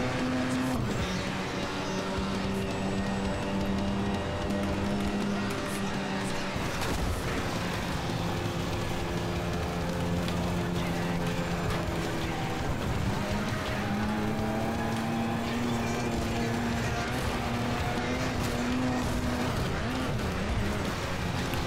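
A race car engine in FlatOut 4 revs loud and close, climbing and dropping through gear changes as it powers through a time-trial run, its strained whine holding steady with occasional tire noise.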